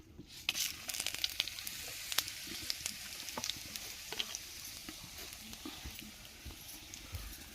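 Cumin, bay leaf and dried chillies crackle and sizzle in hot oil, tempering for a maize curry, with a steady close frying hiss and scattered sharp pops throughout.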